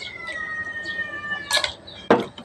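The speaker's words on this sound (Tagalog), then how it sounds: "Ang aking pusa ay maingay na" Two short, bright cat meows about half a second apart, the second louder, over a quiet background with a faint steady whine.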